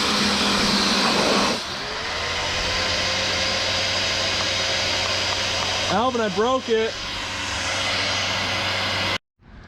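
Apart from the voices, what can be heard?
power washer cleaning Dodge Viper wheels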